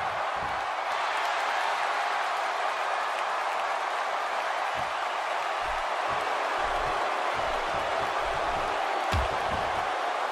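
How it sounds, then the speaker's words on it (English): A wrestling arena crowd in the WWE 2K16 video game cheers and roars in a steady, dense wash for the whole stretch, with faint thuds now and then beneath it. "by the sound of this crowd, I think they're getting what they wanted"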